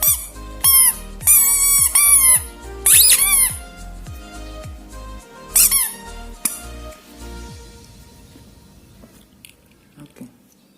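Squeaking toy duck mounted on a propeller helmet, giving a run of sharp, high, rubbery squeaks in quick bursts, then a few scattered squeaks before handling noise trails off, close and clear with no talk.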